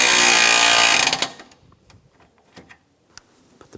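A power tool tightens bolts on the AC condenser of a 2004-2009 Toyota Prius: a loud, steady whirring burst lasting about a second, then faint scattered clicks and taps.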